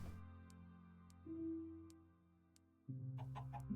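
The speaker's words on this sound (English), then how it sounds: "This chicken's very happy with them." A chicken clucks in a block-building video game beside seared bricks, the soft calls set against a steady low hum with faint periodic ticks, rising louder near the end.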